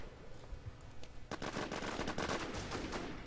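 Bursts of rapid gunfire from the video game War Inc. crackle at moderate distance, quiet at first and then a dense volley of overlapping shots for the last couple of seconds, with no voices.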